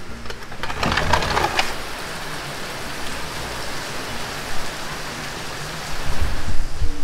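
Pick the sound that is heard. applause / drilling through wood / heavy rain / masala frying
heavy rain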